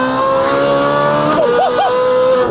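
Ferrari 458 Italia V8 with a full IPE exhaust drifts nearby, a loud, high-pitched sustained engine scream with quick wavering rev blips, close and dominant.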